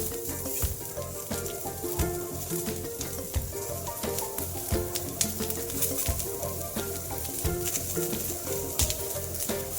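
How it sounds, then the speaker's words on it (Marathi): Onion, ginger and garlic frying in hot oil for a Marathi-style chilapi fish curry, a steady close sizzle with crackling pops and occasional stirring, no talk. "कांदा, अद्रक आणि लसूण पण तळून घ्यायचं आहे"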